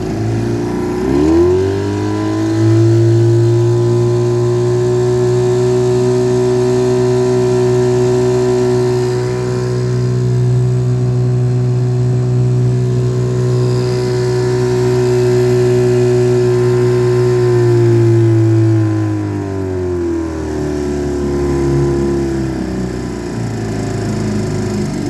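A 1951 or 1952 Johnson TN-26 5 hp outboard motor, running a little rough, holds a steady loud drone for most of the run after a quick rise in revs, then drops back toward idle near the end.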